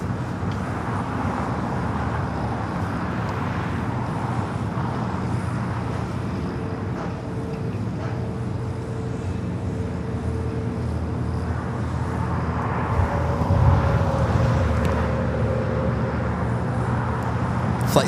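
Boeing 777 freighter jet rolling down runway 25 Left at LAX, a long, steady jet roar heard from a distance that swells slightly toward the end, mixed with faint surrounding airport noise.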